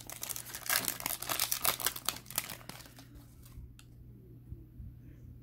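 A Topps Chrome baseball card pack wrapper crinkled and torn open close up, a rapid burst of crackling foil for about three seconds that then drops to near quiet.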